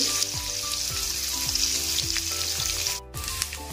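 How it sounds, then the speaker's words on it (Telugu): Ingredients for curry frying in oil until golden, a steady close sizzle under a repeating background tone, with a brief sharp break near the end. "మంచిగా గోల్డ్ కలర్ వచ్చేంత వరకు వేయించుకోవాలి ఫ్రెండ్స్ వీటిని"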